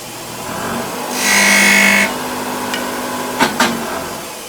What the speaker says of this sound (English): I'll put a mark on there with the skew chisel